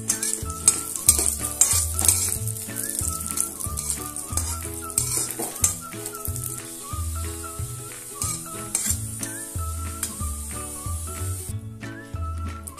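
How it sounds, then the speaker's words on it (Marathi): Raisins fry in ghee, giving a soft, continuous sizzle with occasional stirring. Rhythmic background music plays throughout. "बेदाणे आपण आता तुपात तळून घेऊया।"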